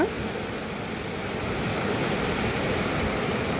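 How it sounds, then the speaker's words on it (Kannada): Small waterfalls running down a jungle-covered hillside pour in a steady, loud, broadband rush that continues without a break, with no voices over it. "ಸಣ್ಣ ಸಣ್ಣ ಜಲಪಾತನ ಅದಾವ"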